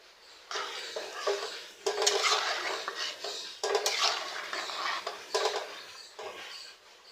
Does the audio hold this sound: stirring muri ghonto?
yes